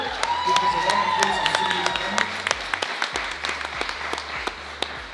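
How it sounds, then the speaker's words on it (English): A round of applause at a company Christmas party for two colleagues, Galvez and Julia; scattered claps ring out over music and a speaking voice. "Galvez and Julia have really been my backbone in the company, and I really want to give them a round of applause"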